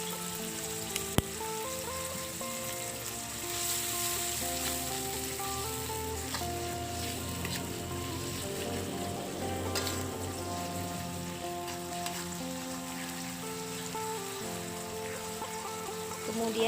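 Green beans stir-fried with oyster sauce in a hot pan, a steady close sizzle and crackle with light stirring scrapes, continuous throughout without talk.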